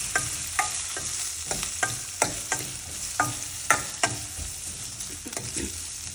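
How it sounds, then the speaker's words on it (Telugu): Onion and curry leaves fry in a pan for Andhra-style dal, a steady sizzle broken by repeated scraping spoon strokes and knocks against the pan at an irregular rhythm. "ఇందాక కట్ చేసి పెట్టుకున్న ఆనియన్ ఇంకా కరివేపాకు వేసుకొని బాగా వేయించుకున్నామండి"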